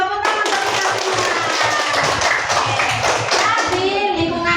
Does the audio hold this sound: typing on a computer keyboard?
no